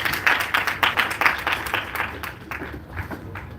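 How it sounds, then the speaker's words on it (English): An event audience at JIMS Kalkaji in New Delhi claps to welcome a speaker to the stage. The applause starts full and steady, then thins and fades out over the last second. "Please welcome Ma'am with a big round of applause."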